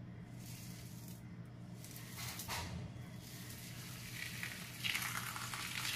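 Puran poli flatbread laid on an oiled griddle, giving a faint, steady sizzle and hiss close up, with a few soft scraping bursts partway through.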